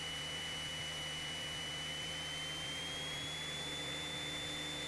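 Cessna 172 light aircraft engine droning steadily on final approach to runway 35 at Tyabb, a constant close cabin hum with a faint rising whine, no talking.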